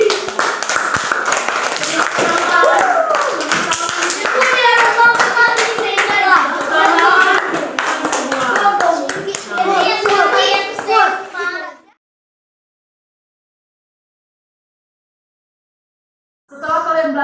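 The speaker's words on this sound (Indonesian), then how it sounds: "Ya, tepuk tangan semua." A classroom of young children claps together during a lesson, with dense rapid hand claps and children's voices mixed in for about twelve seconds, then a sudden cut to silence and a brief return of clapping at the end.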